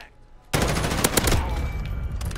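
An M4A1 rifle in the Modern Warfare video game fires in sustained automatic bursts, loud and close. The rapid cracks start abruptly after a short quiet lead-in and continue without a break to the end.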